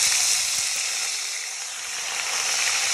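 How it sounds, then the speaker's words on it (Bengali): Onion paste for biryani sizzles and hisses steadily in a hot pan over a clay stove at an outdoor picnic, a dense continuous frying noise up close with no voices. "পেস্ট একটু হালকা ভেজে নিব।"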